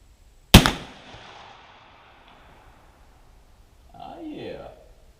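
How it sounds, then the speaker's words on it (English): One sharp, loud crack from a Jukar .45 caliber Kentucky muzzleloader rifle fired at 20 yards, trailing into a short fading rumble, followed a few seconds later by quiet talking. "let's do a much less flinchy shot number 2 right here at 20 yards"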